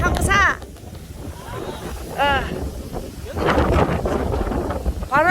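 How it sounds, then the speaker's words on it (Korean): Strong gusts buffet the microphone at a coastal lookout on Ulleungdo, a loud roaring rumble that rises and falls in waves, with brief voices and calls heard through it. "바람이 이렇게 세게 부는데"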